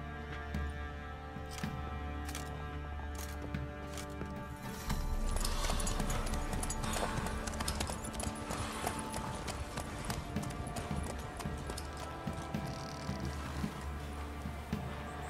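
Horse hooves clip-clop steadily in The Witcher 3: Wild Hunt, a continuous rhythmic trot close up, growing louder partway through beneath a layer of game music and ambience.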